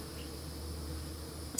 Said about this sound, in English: The bees are still out foraging and bringing in, from what I can tell, plenty of resources.